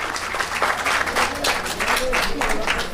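An audience at an official handover ceremony for 24 houses under a mass housing programme claps in a sustained, fairly loud round of applause, with faint voices mixed in beneath.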